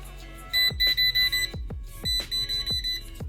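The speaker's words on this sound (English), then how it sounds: "So using a voltage tester, we know that this is hot because it beeps" A voltage tester touched to a live wire beeps in two groups of short, high electronic pips, clipped and evenly spaced, sounding over a faint background with occasional soft knocks.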